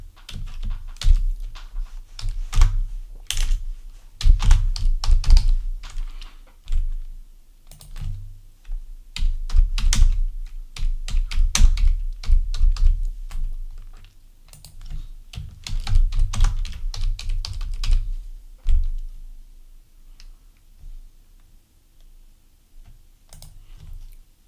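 A store name being typed on a computer keyboard during software setup: irregular runs of close, crisp key clicks with short pauses, tapering off near the end.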